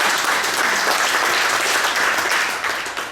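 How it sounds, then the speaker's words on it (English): An audience breaks into steady, dense applause to welcome a speaker onto the stage at an evening talk, the clapping sustained throughout and fading slightly at the end. "give a round of applause for Scott."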